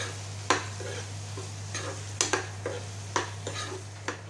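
Curry paste for drumstick curry being stirred in a frying pan: scattered scraping strokes of a spoon against the pan, fairly faint and close, over a soft sizzle and a steady low hum.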